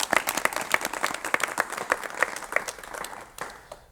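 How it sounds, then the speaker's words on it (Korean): A studio audience claps to welcome an elderly guest onto a 1985 KBS talk show, giving crisp, distinct handclaps from a modest crowd that start strong and gradually thin out and fade. "박수로 맞이해 주십시오."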